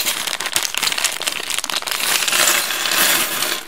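A bunch of metal keys from a Beebecraft unboxing is handled and poured out, giving a close, continuous jingling clatter that grows denser and louder toward the end.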